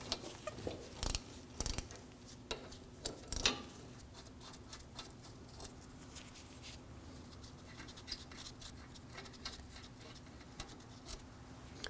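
A socket wrench loosens the 14mm brake caliper bolts on a 2013-2015 Subaru XV Crosstrek, giving sharp metallic clicks and a few ratcheting bursts early on, then quieter ticking and handling noises, with no speech.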